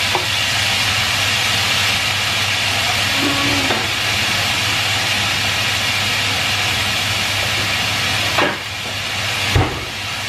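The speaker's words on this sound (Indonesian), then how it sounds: "Oke, kita masak telurnya." Eggs cook in a hot pan to make stir-fried scrambled eggs, with a loud steady sizzling hiss running throughout and a couple of brief clanks near the end.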